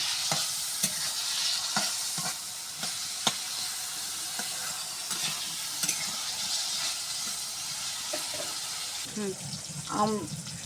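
A curry is stirred and sautéed in a pan, with repeated spoon scrapes and taps over a soft frying sizzle and a brief voice near the end.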